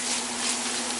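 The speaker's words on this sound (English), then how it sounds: "We'll kind of melt it in this pan here." Steady sizzling of butter melting in a hot frying pan, close and continuous, with no talking.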